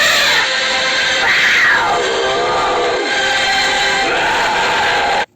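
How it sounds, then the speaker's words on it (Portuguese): A jaguar gives a loud, sustained wailing cry, a drawn-out call rising and falling in pitch for several seconds before cutting off abruptly. "Aqui nós temos a onça,"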